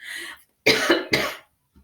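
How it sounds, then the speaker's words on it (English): Two sharp, loud coughs in quick succession right up close, preceded by a breathy throat sound. "Excuse me, I'm going to cough."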